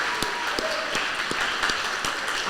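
An audience at a high school senior awards ceremony applauds, a dense steady wash of many hands clapping together, loud and sustained throughout with a few sharper individual claps standing out.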